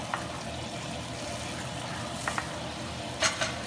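Steak fat in a pan being stirred, a faint steady sizzle with a few soft scraping touches near the end, quiet and with no talking.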